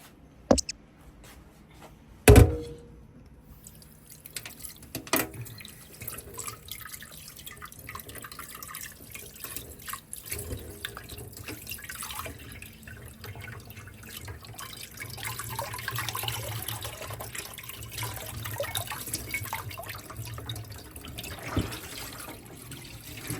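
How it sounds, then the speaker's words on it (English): Water from a sink tap runs and drips while salted pollock fish is rinsed, starting with a few sharp clanks, then a soft steady trickle that swells slightly toward the end, close by with no talk. "we're gonna move to the sink and then we're gonna rinse it"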